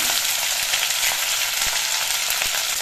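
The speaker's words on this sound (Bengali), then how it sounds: "বাকি মাছের পিসগুলো ভেজে নিচ্ছি।" Fish pieces shallow-frying in hot oil in a pan, giving a loud, dense, continuous sizzle close by with only slight crackles and no talking.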